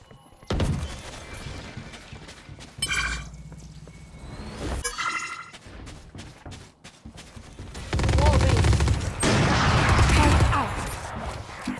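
Bursts of grenade and weapon fire in the Valorant shooter game come in scattered clusters of sharp pops and thuds, with a denser stretch of rapid blasts near the end, heard under in-game voice lines.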